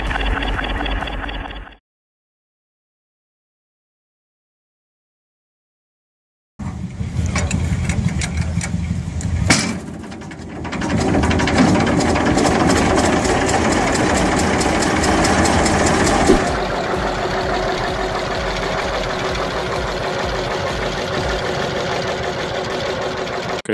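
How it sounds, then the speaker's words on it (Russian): An old 1930s tractor's horizontal single-cylinder four-stroke diesel engine with evaporative cooling runs nearby with a loud, steady rapid chugging, stopping briefly before restarting and idling on. "Мотор – горизонтальный одноцилиндровый четырехтактный вихревой дизельный двигатель с испарительным охлаждением"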